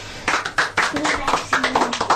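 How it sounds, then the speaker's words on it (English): A small audience at a primary school radio show claps for a girl after her poem, a brief burst of distinct, close, uneven handclaps from a few people, with a voice briefly audible among them. "A clap for Hannah"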